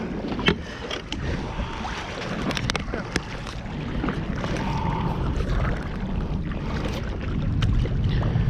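Two people paddle a kayak together on open water, with soft splashes and paddle strokes under steady wind noise and lapping water, close to the microphone.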